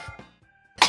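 A single short cough up close, followed by a faint lingering tone and then a sudden burst of louder noise at the end.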